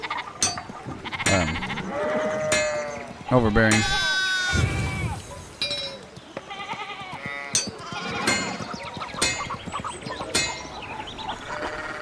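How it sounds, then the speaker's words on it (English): Goats in the medieval video game Pentiment bleat repeatedly in loud, wavering cries, close and insistent, overlapping with a person talking over the game audio. "Some of the goat noises get a little bit"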